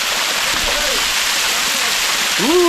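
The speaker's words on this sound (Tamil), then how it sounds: "வா தண்ணி பாருங்க எவ்வளோதான் வருது." Masila waterfall in the Kolli Hills pouring down, a loud, constant rushing roar of falling water close by, with brief voices over it.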